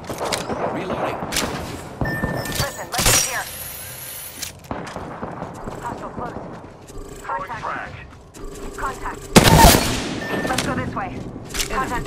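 Bursts of gunfire and mechanical reloading clatter from a video game shooter, loud sharp shots cutting through busy game noise, with a voice talking over much of it.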